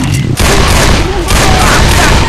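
Gunfire from Left 4 Dead 2 during a riverbank park stage: loud, dense bursts of rapid shots crackle almost continuously, with a brief lull early on before the shooting resumes at full intensity.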